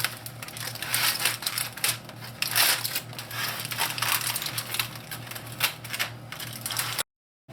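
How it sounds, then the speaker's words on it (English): Aluminium foil is peeled off a leg of lamb after roasting for an hour and a half, making a steady run of close crinkling and crackling that ends abruptly in silence. "I'm just going to remove the foil from on it now."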